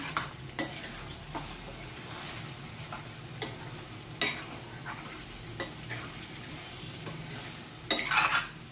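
A spoon stirring sour curry in a pan on a stove, scraping and clinking steadily with occasional sharper knocks, over a faint sizzle and with no talking.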